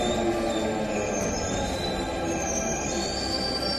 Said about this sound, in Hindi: ये है देश की पहली ड्राइवरलेस मेट्रो ट्रेन।